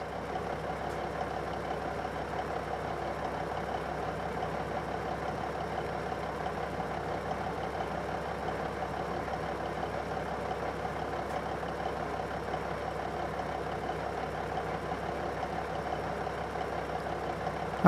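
A Freightliner Argosy truck engine idles in Euro Truck Simulator 2, a steady mid-low drone that keeps an even level for nearly eighteen seconds and carries no speech.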